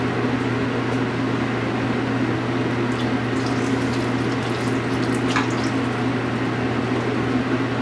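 Water runs into a measuring cup in a kitchen, a steady, close liquid pour with a faint trickle over a constant low hum.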